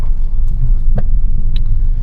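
Evening road traffic in Chennai, a loud close rumble of car and vehicle engines with a few short sharp knocks and a brief high tone, steady throughout and free of talk.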